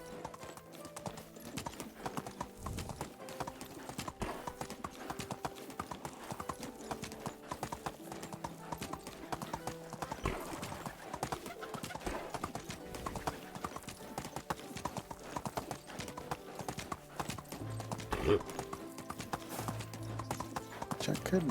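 Horse hooves clip-clop in steady, continuous rhythm while riding in a video game, heard throughout under game music and ambient sound, with a brief whinny-like tone late.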